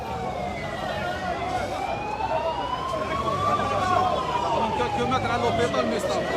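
An ambulance siren wails in rising and falling sweeps at moderate distance, trying to get through traffic 300-400 metres from Mustapha hospital, heard through traffic noise with people talking underneath.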